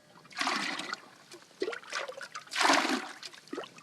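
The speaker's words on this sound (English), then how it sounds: "So just fill up the pannikin here and straight on the fire." Salty, undrinkable water poured from a container into a pannikin in the bush, heard as two separate splashing pours with short trickles between them, close and fairly loud.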